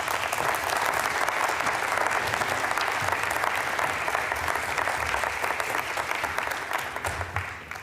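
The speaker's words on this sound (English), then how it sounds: "Please welcome with a warm applause" Warm applause from an audience welcoming panelists to a quantum computing plenary, dense sustained clapping from a large crowd that holds loud and even before thinning slightly at the very end.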